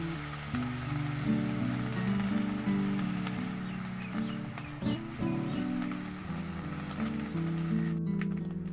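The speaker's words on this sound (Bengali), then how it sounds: "পেঁয়াজটা আমি হালকা লাল করে ভেজে নেব।" Ground onion paste sizzles in hot oil in a pan, the base for a wedding-style doi katla fish curry. A steady hiss runs throughout beneath a droning tonal background, with a brief stir near the middle and no talking.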